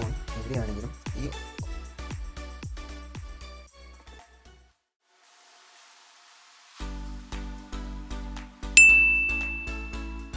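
A phone rings out through the play sound option of Find My Device, a repeating run of bright chiming tones that stops briefly near the middle, then resumes louder.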